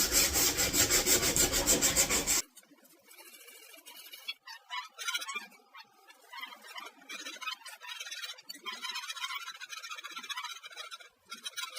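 Sandpaper rubs back and forth across pallet wood for a guitar build, starting with a loud burst of scraping that drops to quieter, uneven strokes close by.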